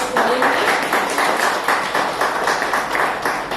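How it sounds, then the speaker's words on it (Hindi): Rhythmic group clapping welcomes guests at a garbh sanskar session for pregnant women, a steady pulsing beat of many hands at close range, with faint voices beneath. "तो जोरदार तालियों से स्वागत करेंगे"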